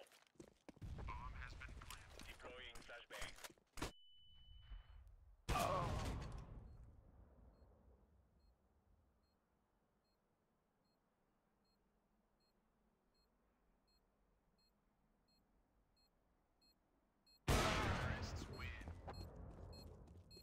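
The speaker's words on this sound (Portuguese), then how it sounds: "Errei dois tiros no cara de costas." Sharp bursts of gunfire in a competitive online shooter match come in a few loud clusters separated by a long near-silent stretch, with a brief beep between them.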